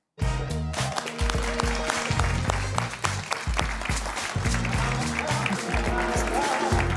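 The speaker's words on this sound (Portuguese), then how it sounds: "Recebam com sentido de Estado e algumas palmas, naturalmente, Sua Excelência, Doutora Graça Fonseca." A crowd claps in sustained applause over music, loud and continuous from start to finish.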